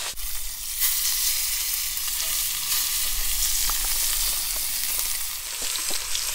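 Pork ribs searing hard in neutral oil in a Dutch oven, giving a steady, close, loud sizzle that runs throughout with small crackles and pops and no talking.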